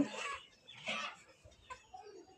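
A domestic desi rooster clucks in a few short, separate bursts before slaughter, close by and fairly loud against a quiet background.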